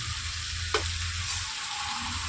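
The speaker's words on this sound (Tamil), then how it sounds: "தக்காளி போட்டாச்சு, தக்காளி வணக்கணும்." Tomatoes fry in a pan with a constant, even sizzling hiss and one small knock early on, steady and close, with no speech.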